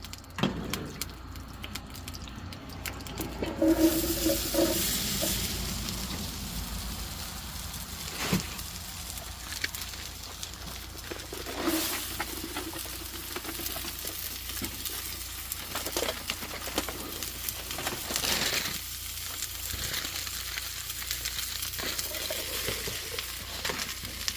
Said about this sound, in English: Let's go ahead and dump in our onions and our taters